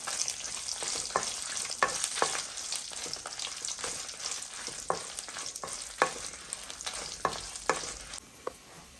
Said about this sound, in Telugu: వెల్లుల్లిపాయలు కూడా వేసుకుందాం స్టవ్ బాగా తగ్గించుకోవాలండి